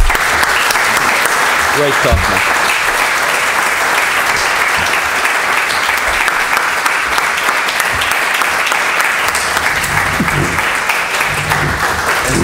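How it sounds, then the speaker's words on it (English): A lecture audience gives a long, sustained round of applause at the close of an annual academic lecture, loud and continuous throughout, with voices speaking briefly over the clapping. "join me on a round of applause and thank again Michael"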